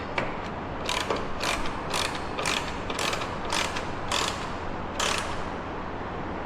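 A hand ratchet tightens an awning bracket bolt during a Fiama F45 awning install, giving about nine quick rhythmic clicking bursts, each a short burst of rapid pawl clicks, close and fairly loud with no talking.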